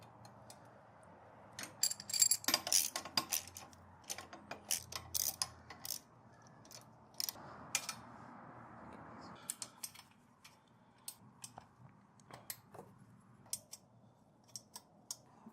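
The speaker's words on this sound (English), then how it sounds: "You want to tighten these pretty evenly between all 4 bolts just to make sure that the clamp sits pretty even on that down tube" Bolts on a Tusk engine guard clamp being tightened on a KLR650 motorcycle, with quick irregular ratchet-like clicks in bursts, close and fairly quiet, with pauses between runs.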